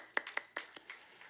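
A few people in a youth church gathering clap sparsely, giving a handful of separate, uneven claps over a moment that sound faint and thin rather than like full applause.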